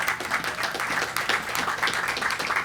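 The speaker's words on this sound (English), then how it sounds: "My parents and players are clapping right now" Parents and players applaud at a baseball facility groundbreaking ceremony, a dense, steady wash of many hands clapping with a few louder swells throughout.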